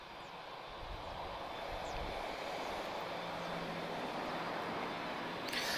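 Heavy airliners departing Lisbon Airport, a steady broadband jet engine roar that holds at a constant level from start to finish, distant and unbroken, with no voices.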